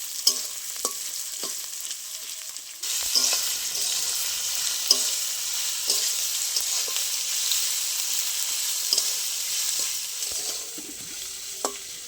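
Chopped onions sizzle steadily in hot oil, frying until browned, with occasional soft scraping clicks from stirring. The frying is close and continuous, with no talking.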